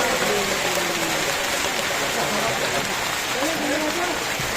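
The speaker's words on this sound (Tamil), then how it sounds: "இங்க வந்து மழை பெய்யல, ஃபுல்லா ஐஸ் கட்டியா கொட்டுது." Hail of ice chunks falls outdoors in snowy Kedarnath as a dense, steady hiss of pelting, uniform throughout, with a person talking faintly underneath.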